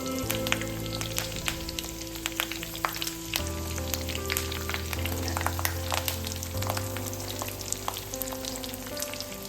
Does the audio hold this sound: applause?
no